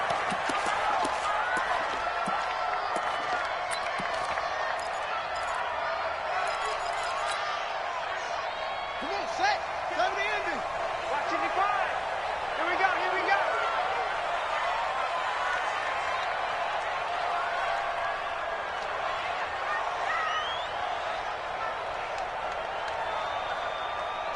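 Stadium crowd at a Colts versus Titans NFL football game, a steady loud roar of cheering fans filling the whole stretch, with faint shouts and claps rising now and then.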